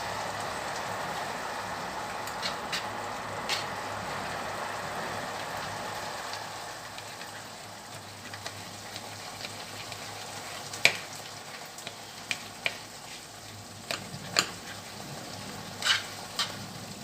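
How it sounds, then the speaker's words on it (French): Tomatoes frying in a pan alongside diced potatoes: a steady, moderate sizzle continues throughout, with a few sharp clicks and taps of a utensil near the end. "Je laisse les tomates un peu prendre."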